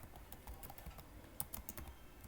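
Faint, close keyboard typing while writing a Python program comes as a quick, uneven patter of soft key clicks, with a few slightly sharper taps in the middle.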